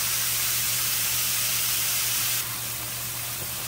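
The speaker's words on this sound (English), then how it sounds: "I'm going to sear that for, it's about medium high for 2 minutes." Blackened fish sears in a hot oven-safe pan over medium-high heat, a loud continuous hiss and sizzle that drops slightly in level partway through, with no talking.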